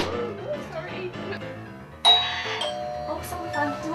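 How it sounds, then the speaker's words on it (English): A doorbell chime rings out clearly halfway through at a dinner party, ringing over a background of chatter and voices. "Oh, someone found a doorbell."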